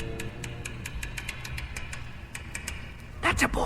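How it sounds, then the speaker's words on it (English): Amplified clicking of bank vault lock tumblers in a radio drama: a steady run of sharp, evenly spaced ticks over a low hum, ending in a brief louder rustle. "the clicking noises you hear are the tumblers of a lock, magnified many times by intricate amplification equipment"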